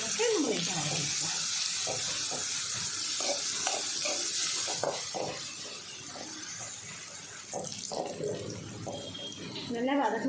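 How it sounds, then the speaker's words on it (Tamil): Onion sautéing with ground garlic and red chili paste in a pan for a leftover-rice dish, with a steady sizzle and scraping stirs running under a person talking throughout. "சேர்த்துட்டு நல்லா மிக்ஸ் பண்ணிவிட்டு இந்த பூண்டோட தான் பச்சை வாசனை போகிற அளவுக்கு நம்ம லைட்டாக வதக்கிக்கலாம்"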